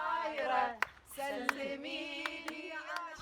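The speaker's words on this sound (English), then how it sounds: "clapping and singing happily together in a semicircle in the sunshine" A group of women of different ages clap and sing together outdoors in sunshine, standing in a semicircle; sustained melodic voices carry over scattered sharp handclaps, fairly close and lively.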